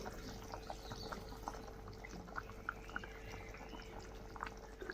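Fish curry bubbles gently in a pot, a faint, steady simmer with small irregular pops and blips throughout, quiet and close with no talking.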